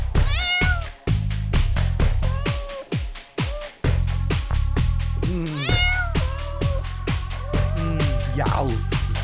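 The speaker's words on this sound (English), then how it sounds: "Good kitten." A cat meows repeatedly and loudly close to the microphone, a series of drawn-out, rising and falling cries in quick succession, some whiny and strained, with a brief human voice in the background.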